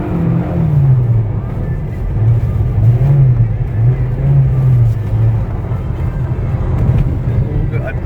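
Diesel Audi sliding on all four wheels around a snowy winter race track, its engine droning and rising and falling at a distance while people talk loudly nearby.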